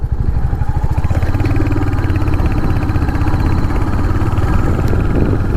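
A 2025 Royal Enfield Hunter 350 thumps along on the road through traffic, its single-cylinder beat steady and close up with a faint clatter, running loud and even with no voices.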